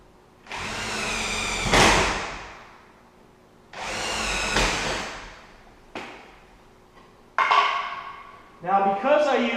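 A power drill with a 1/4 inch bit bores holes for cabinet door hinge hardware, set in a jig, in several separate whirring bursts that rise and stop, ending with a shorter, clipped run.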